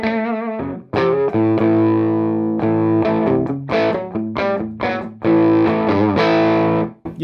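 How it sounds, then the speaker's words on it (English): Electric guitar through a UK-made boutique amp, pickups in the middle position wired out of phase with volumes near 7, playing a sequence of distorted, effect-laden chords and notes with sharp attacks and sustained ringing, loud and close. "it'll clean up or distort a lot by how hard you hit it"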